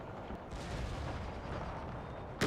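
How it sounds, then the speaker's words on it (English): Cannon fire in a Total War battle, Polish-Lithuanian Commonwealth in Empire 2, forms a dense, continuous rumble of distant artillery and musketry, a steady roar of battle noise with no talking. "I'm getting some good cannon shots bouncing through here."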